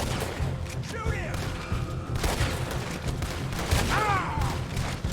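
Gunfire rattles through a pirate-cowboy action video game, bursts of shots and booms layered over a busy battle soundscape, loud and close, with game voices mixed in.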